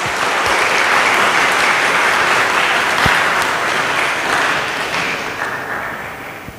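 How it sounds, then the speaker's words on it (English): A conference audience at an international agricultural, nutraceutical and food science event breaks into sustained applause for the official opening, a dense wash of clapping from a large crowd that slowly tapers off toward the end. "Let's give a big round of applause."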